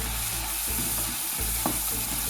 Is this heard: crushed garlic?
yes